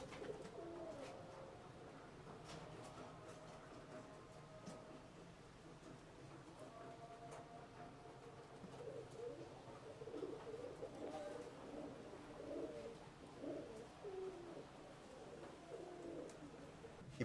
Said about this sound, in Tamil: இப்போ வந்து இந்த புறா இருக்கு இல்லைங்களா